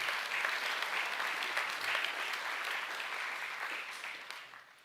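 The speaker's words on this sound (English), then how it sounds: "Can we please give Ms. Kay Morley and Mr. Gnane a round of applause?" An audience at a school academic awards evening applauds two staff members, a sustained wash of many people clapping that holds steady and then tapers off near the end.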